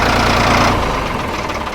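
A Ford tractor's engine runs loud and close, with a dense, steady rumbling roar throughout and no voices.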